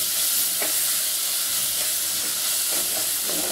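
Onion sautés with ginger garlic paste for a green peas pulao, giving a loud, constant hissing sizzle with a few soft stirring scrapes beneath it.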